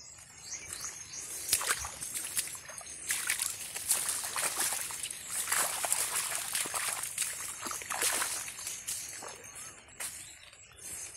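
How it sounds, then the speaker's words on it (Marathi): Water sloshes and splashes underfoot in a waterlogged sugarcane field after a night of heavy rain, soft irregular wet squelches and trickles close by, with faint birdsong in the background. "ऊसाच्या शेतात पाणी साचलंय खाली, अगदी डबडब असं पाणी करते."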